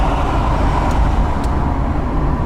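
A cheap $500 used car accelerates onto a highway. Engine and road noise form a steady, loud rumble inside the cabin.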